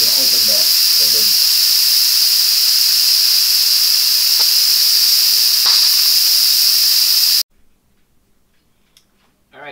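Steam hisses loudly and steadily from the pressure release valve of a Cosori multi-cooker making keto chicken soup, a continuous near roar that cuts off abruptly, leaving near silence with faint small sounds.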